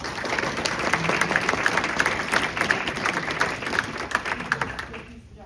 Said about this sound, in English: we're going to give you one more round of applause